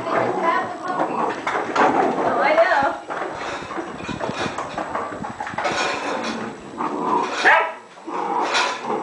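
Excited ten-week-old Doberman puppies bark and yip repeatedly at feeding time, close and loud, mixed with scuffling, while a person talks over the commotion.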